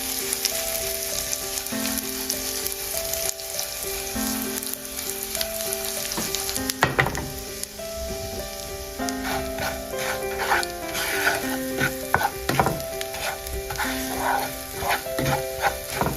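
Goda masala spices stirred in a hot pan on a switched-off gas stove, giving a continuous oily sizzle with scraping stir strokes, close and fairly loud, over a faint tonal background.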